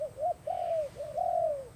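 Turtle dove cooing in the Mekong Delta countryside, a series of soft, drawn-out coos repeated in an irregular rhythm, clear and moderately close over a quiet background.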